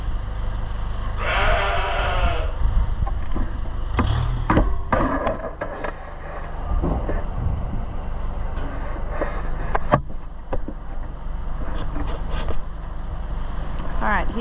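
Sheep bleat several times, loud and close, near a puppy, mixed with background rumble and the clatter of movement, and a person talks now and then.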